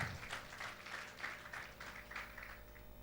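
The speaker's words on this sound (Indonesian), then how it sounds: "Berikan tepuk tangan." A church congregation claps steadily for a few seconds during a fasting prayer service, a dense patter of applause at moderate volume with a low hum underneath.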